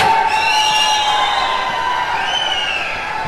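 A large crowd cheers, whoops and shouts as Kannada actor Sudeep is welcomed on stage at a Bigg Boss Kannada Season 12 event. The sound is loud, dense and continuous, with shrill high-pitched voices rising throughout.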